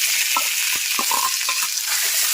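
Ground coconut paste for a Kerala village-style snake gourd and lentil curry sizzles in a pan, a steady close frying hiss with a few soft scraping stirs and no voices.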